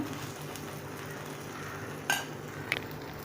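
A raw potato and wheat flour pancake fries quietly in a pan with a soft, even sizzle, broken by two sharp metallic clinks of a spatula against the pan.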